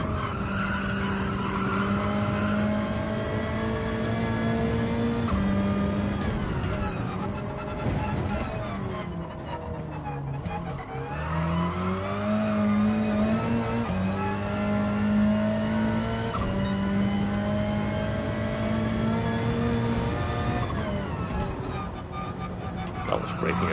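A race car in Gran Turismo 7 brakes hard with squealing tires, then accelerates. Its engine whines through rising gear changes over a long, steady stretch, with a voice talking over it.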